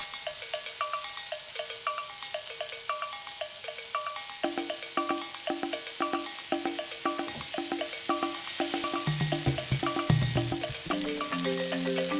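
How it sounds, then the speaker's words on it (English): Adobo fries in lard in a cast iron pan, giving a continuous bright crackling sizzle that lasts the whole stretch, while a melodic tune plays over it. "Just put some of that lard and then get some of the adobo and fry away just to crisp it up."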